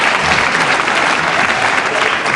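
A British wrestling crowd at a World of Sport bout applauds in a loud, steady wash of clapping and cheering that holds evenly throughout.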